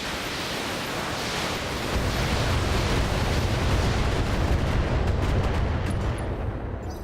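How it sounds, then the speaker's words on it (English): Mech weapons fire at a Thunderbolt in the BattleTech video game, a loud, dense barrage of booming blasts and rumbling impacts that swells after the first two seconds and holds steady, with no talking. "I'm going to fire everything we've got at this Thunderbolt"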